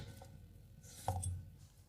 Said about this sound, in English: You can cut it into half moons too, but for this recipe, I like to cut it this way.